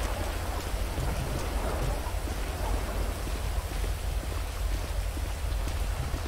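Steady rain in the video game GTA 5, a dense even hiss of falling drops that holds constant throughout with no voices.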